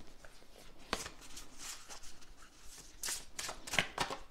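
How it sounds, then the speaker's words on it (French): Oracle cards handled and laid out for a reading, soft papery shuffles and light slaps, quiet and close. "Je vais compléter en mettant au-dessus des cartes oracles."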